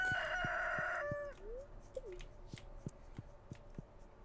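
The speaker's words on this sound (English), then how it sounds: "Gotta let the chickens out." Chickens in the Stardew Valley farming game: one crowing call fills the first second, then come sparse, quiet clucks and short blips with soft, evenly spaced ticks.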